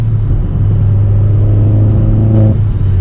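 Inside a moving Opel Corsa OPC/VXR, the engine holds a loud, steady low drone and rumble throughout, with a slight swell in revs toward the end.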